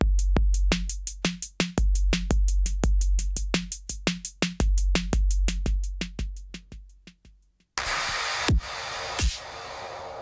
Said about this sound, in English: she makes a dry, wet, and feedback sweep on this using a simple delay